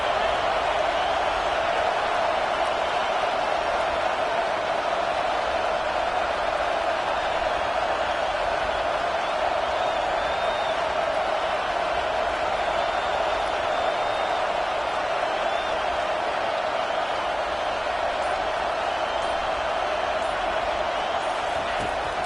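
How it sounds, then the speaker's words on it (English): A home crowd at a college football game roars steadily and loudly throughout, a dense, sustained wall of cheering with no breaks. "Man, this crowd really affecting the football game."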